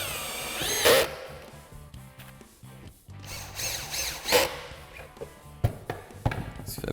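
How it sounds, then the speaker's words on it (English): A power drill drives screws into a wooden door frame, sounding as short whirring bursts near 1 and 4.5 seconds with lighter clicks and handling noise between, close and moderately loud. "should be able to just drive the rest of the screws in"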